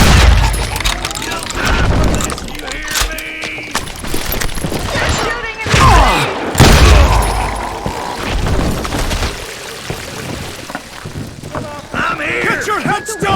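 Gunfire in the Western shooter Call of Juarez: Gunslinger, a dense, loud barrage of shots and booming blasts with ricochets, steady throughout amid the game's action.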